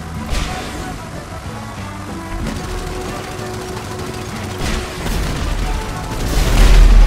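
Loud explosions and rumbling booms in the video game GTA Online, several in succession over a dense, noisy background.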